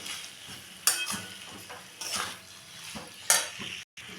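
Fried dried lote fish and vegetables get stirred in a pan, a spatula scraping and clinking against the metal in irregular strokes over a soft sizzle, with one sharp knock near the end.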